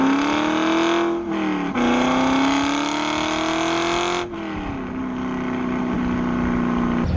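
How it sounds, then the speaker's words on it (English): A C5 Corvette engine drones with a raspy exhaust tone, the pitch rising and dipping as the revs shift between gears, loud and close. "it does have a little bit higher of an exhaust note, which I really like"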